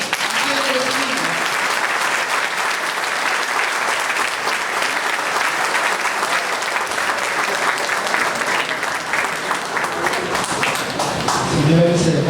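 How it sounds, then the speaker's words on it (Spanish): Sustained audience applause fills a hall at a Lambayeque Bar Association civil law diploma lecture, a steady dense wash of clapping lasting throughout, with a faint voice near the start and a slight swell at the end. "quiero que este público grande exprese un aplauso cariñoso para"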